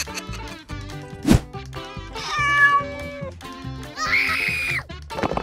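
A cartoon cat is thrown against a tree during a comedic dinosaur scene, letting out several loud, close meows and wails over a busy musical backing with sharp effects.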